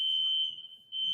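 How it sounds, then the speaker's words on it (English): A fire alarm sounds one steady, loud, high-pitched electronic tone, dipping briefly before coming back at full strength, with no talking. "there's the fire alarm again."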